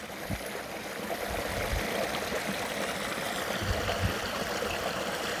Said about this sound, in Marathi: ते पाणी वाहतंय बघा कसं मस्त एकदम